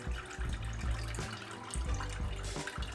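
Water pours from a watering can into a dry houseplant's pot, a soft continuous trickle and splash, faint and close, with no talking.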